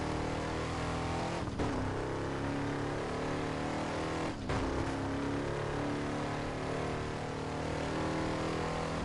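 Car engine in the Burnout Paradise racing game, a continuous loud drone that rises and falls as it revs, with two brief sharp shifts or impacts breaking the steady roar.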